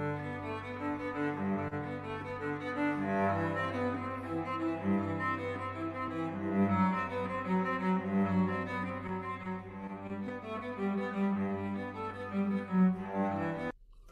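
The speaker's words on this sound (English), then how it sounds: "There's a very famous piece for the cello that I'm sure many of you might know, the Bach Prelude to Cello Suite No. 1." Bach's Prelude from Cello Suite No. 1 played on a modern cello in modern tuning, a steady flowing line of arpeggiated notes, close and fairly full, running alone for about fourteen seconds before stopping.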